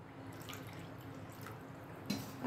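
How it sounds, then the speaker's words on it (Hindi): Water trickles and drips into a cooking pot holding fried tomatoes, spices and potatoes for an onion-free, garlic-free potato curry, a quiet, steady splashing close by with no talk. "आधी कटोरी पानी और डाला है"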